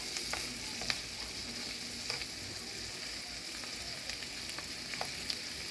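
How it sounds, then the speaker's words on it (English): Honey lime chicken fries in a pan with a steady, close sizzle and scattered sharp pops of spattering oil throughout. "And now I got it cooking."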